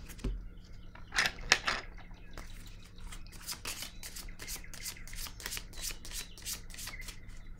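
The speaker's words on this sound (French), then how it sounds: "Je vais piger une carte sur la vérité." Tarot cards being shuffled by hand: a close, papery riffle and flutter of soft rapid card slaps, starting with a few brief bursts and then settling into a steady run of quick shuffles.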